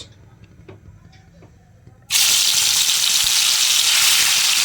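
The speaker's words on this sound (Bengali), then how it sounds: "তেল গরম হয়ে গেছে, দিয়ে দিই মাছ।" Fish hitting hot oil in a home kitchen: after a quiet stretch with light clatter, a loud, steady hiss and sizzle suddenly bursts in and holds to the end.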